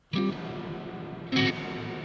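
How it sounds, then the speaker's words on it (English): A distant-style reverb setting on a Donner Arena 2000 reverb pedal gives two short guitar notes or chords a long, washy tail. The tail hangs behind each note as if from the back of a large hall. "I do like this distant reverb, as it's called, though. It sounds like it's coming from behind."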